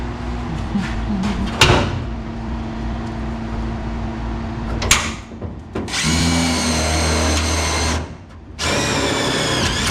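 A power drill drives screws into the rear cab sheet metal of a 1967 C-10 truck in a garage, giving two close, loud whirring bursts near the end after scattered clanks and handling noises.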